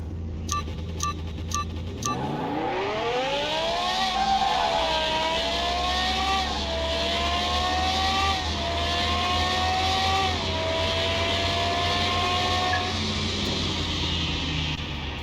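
A car engine in Car Mechanic Simulator 2021 starts after a few clicks, then revs up in a rising whine and holds a high, slightly wavering drone before easing back, loud and steady with no talking.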